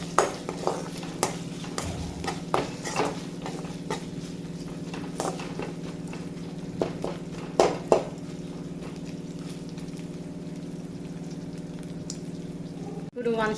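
A spoon stirs green chillies into a bottle gourd pulusu in a pan, scraping in light, irregular strokes over a steady low sizzle and hum. A few louder knocks mark the mixing.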